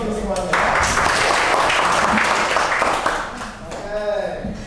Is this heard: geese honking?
no